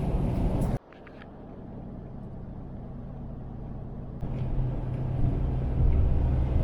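A car drives along a road near Inverness, a steady low engine and tyre rumble throughout, briefly dipping early on then swelling louder toward the end, with no talking.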